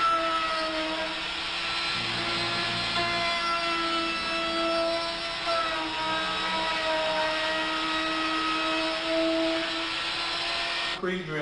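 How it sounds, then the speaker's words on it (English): A belt sander smooths freshly cut wooden handrails for a small drifter boat. It gives a loud, steady motor whine with a constant hum that holds throughout. "Touch up these cuts with a belt sander before routing the finished bead on the inside of the handrails."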